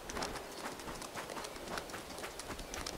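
Rapid, faint deer hoofbeats gallop in a steady drumming rhythm at a distance in the video game Shelter 2, with light chirping in the background.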